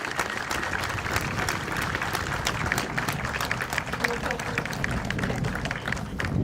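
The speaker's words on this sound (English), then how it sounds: "I would like everyone here to give a huge round of applause to thank all of these wonderful volunteers" A dense, steady round of audience applause for volunteers at a tribute ceremony connected with the USS Silversides, with crowded clapping continuing at an even level throughout.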